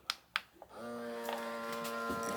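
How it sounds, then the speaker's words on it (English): A small battery-operated jar sealer vacuums air from a jar lid, starting after a few light clicks and then holding a steady, even motor buzz, close and fairly quiet. "A little jar sealer, battery operated."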